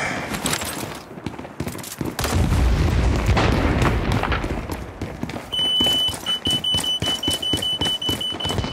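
In the shooter game World War 3, a frag grenade goes off with a heavy, booming blast amid surrounding gunfire and battle noise, followed by a steady electronic alarm tone.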